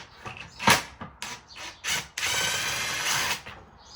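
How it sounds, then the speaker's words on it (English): Small impact gun driving bolts off a Fiat 500 Sport bumper, heard as several short bursts of rattling hammering followed by one longer sustained run, close and loud with no talk. "I've got my little impact gun and I've got the bits. So all we've got to do is quickly put it down and just gun them off."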